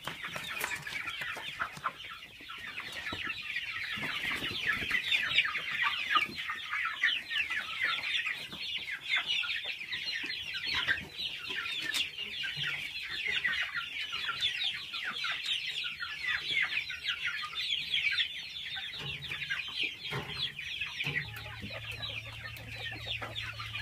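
Chickens cluck continuously in a farm coop, a dense busy chorus of many birds close by with no talking.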